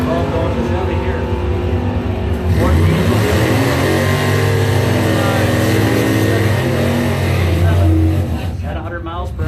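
A 1965 Chevelle SS race car, part of a memorial race event, accelerating hard. Its loud engine rises steadily in pitch through the gears, close and continuous, and an announcer's voice can be heard over it.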